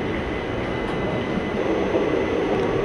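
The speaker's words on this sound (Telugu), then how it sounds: "సో మన ట్రైన్ అయితే అనపర్తి స్టేషన్ నుండి అయితే బయలుదేరిపోయింది" The Ratnachal Express pulls away from Anaparthi station with a continuous, fairly loud rolling rumble of carriages, steady throughout with no speech.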